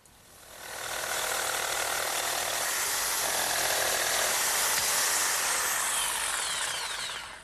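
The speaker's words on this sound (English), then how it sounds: "Now my jigsaw, set up with a nice fresh blade, does a real good job cutting out that notch." A jigsaw fitted with a fresh blade cuts a notch in a wooden leg, producing a loud, continuous buzzing rasp that ramps up quickly, holds steady for several seconds, then tapers off.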